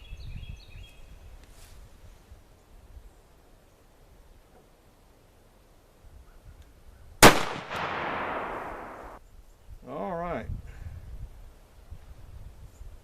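A double-barrel gun fires round ball loads outdoors: one sharp, loud close report with a decaying rumble follows a quiet stretch, then a shorter rustling burst; no one speaks.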